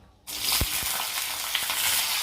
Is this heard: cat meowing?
no